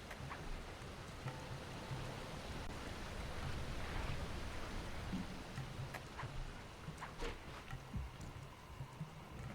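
Steady rain falling in a Sly 2: Band of Thieves game level, a soft continuous hiss of drops with faint scattered patters, heard alone at low volume.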